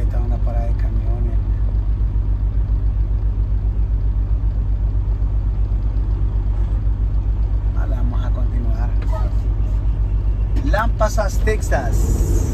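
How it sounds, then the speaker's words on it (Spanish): Traffic at a truck stop in Lampasas, Texas keeps up a steady low engine rumble throughout, with voices and short passing vehicle noises over it. "Ustedes están en una parada de camiones."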